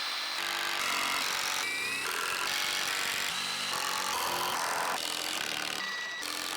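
Screws driven into a roof truss backing board on a shed wall's top plate, with a continuous loud whirring power-tool drone that shifts in pitch as each screw goes in, close and with no talk.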